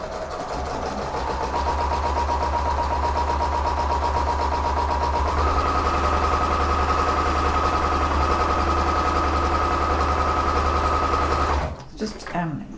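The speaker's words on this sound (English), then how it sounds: "now we're going to sew 1/4 inch seam each side of the line" Sewing machine stitching a quarter-inch seam along a marked line on a quilt block for hourglass units, running steadily and evenly close up for about eleven seconds before stopping abruptly near the end.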